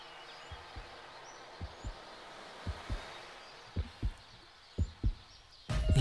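A heartbeat-like low thumping, a drum-like rhythm evoking a damru, beats in spaced pairs, about five doubled thuds, fairly close against a faint hiss, ending in a loud burst.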